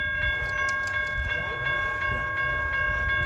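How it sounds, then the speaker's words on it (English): An Amtrak P42DC diesel locomotive passes with its multi-tone horn sounding continuously over loud rumbling and rail clatter, close by. "I did surely record the train"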